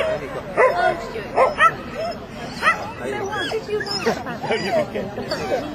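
A three-year-old border collie barks and yips repeatedly in short bursts at a novice agility competition, with a crowd murmuring and a commentator talking throughout.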